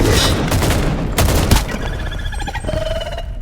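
Gunfire in the extraction shooter Active Matter: a burst of loud, close shots in the first second and a half, followed by a quieter ringing tail with faint game effects and no talk.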